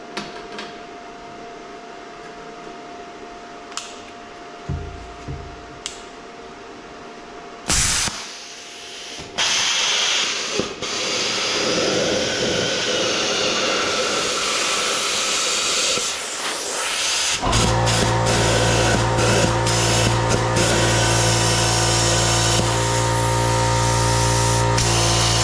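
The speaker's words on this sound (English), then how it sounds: "We're going to use our plasma cutter, and that should make quick work of this." A bestarc CUT55XP plasma cutter slices through sheet metal: a few faint clicks and ticks, then a loud, sustained spraying hiss that runs for many seconds and grows harsher and denser toward the end.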